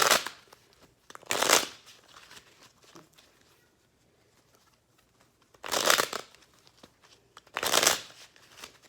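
Cards are shuffled in several quick riffling bursts, separated by pauses of near silence, close and clear.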